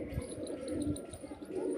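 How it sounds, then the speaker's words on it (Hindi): Pigeons, mostly male birds in a small loft flock, coo softly and continuously with a low murmuring texture and occasional higher chirps, close by and without speech. "ये हम आपको कबूतरों के साउंड सुना रहे हैं।"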